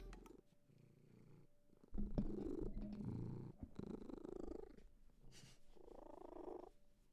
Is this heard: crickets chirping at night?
no